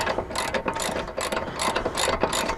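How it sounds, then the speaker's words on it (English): Ratchet wrench with a 17 mm bit tightening an upper control arm bolt on a 1990 Honda Civic, a close series of rhythmic clicking ratchet strokes in quick bursts. "And I'm using 17 millimeter bit. And we're going to go ahead and tighten this through."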